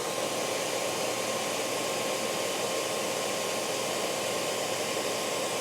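A Miele C1 compact vacuum cleaner running on pure suction gives off a steady, loud, hissing whine with a constant airflow roar and a faint tonal hum. It continues unchanged throughout, with no talking.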